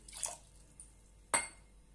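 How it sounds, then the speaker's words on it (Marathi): Water splashes into a pressure cooker pot holding washed potatoes in two short, close pours about a second apart, with quiet between and no talking. "आता आपण त्यामध्ये पाणी घालून"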